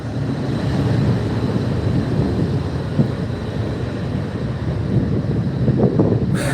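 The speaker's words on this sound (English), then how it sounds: "I think I hear the train underneath us." A deep, steady rumble of a train running underground beneath a quiet downtown Atlanta street at night, a continuous low roar with a faint thump partway through and a brief brighter burst at the end.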